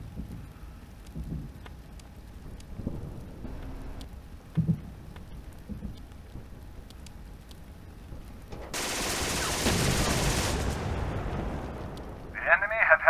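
Machine gun fire in The Troop, a war strategy game, comes as a dense, loud burst of rattling shots midway, after quieter scattered thuds, with a short sharp clatter near the end.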